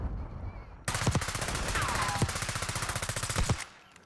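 Rapid automatic gunfire rattles in Call of Duty Black Ops 6 Search and Destroy, a loud close burst of evenly spaced shots lasting nearly three seconds, with a few heavier impacts mixed in.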